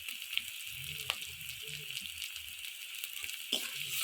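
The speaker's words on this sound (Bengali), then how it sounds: "দিয়ে ভালো করে মশলাটা কষিয়ে নেব" A paste of ginger, garlic, cumin, coriander and pepper fries with lightly browned onions in a pan for an egg malai curry, a faint, steady sizzle broken by a few soft clicks.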